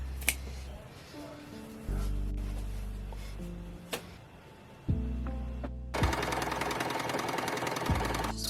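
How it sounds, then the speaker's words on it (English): A sewing machine stitches dance costumes late at night, running in loud bursts of rapid needle chatter that start, stop and change speed, with short pauses between runs. "So enjoy some midnight sewing."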